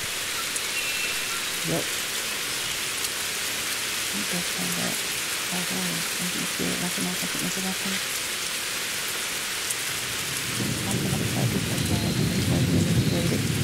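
Steady rain and rumbling thunder in the ambience of a science-fiction puzzle video game, a continuous downpour with a deeper storm swell near the end and a brief spoken word over it.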